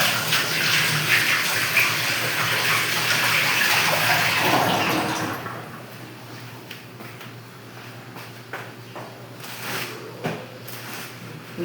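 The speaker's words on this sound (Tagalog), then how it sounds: "Lugasan ko kasi malagkit dahil natuluan ng egg yolk" Dishes sticky with egg yolk are rinsed under a running kitchen tap: a loud, steady gush of water for about five seconds, then the flow stops, leaving quieter clinks, rubbing and dripping.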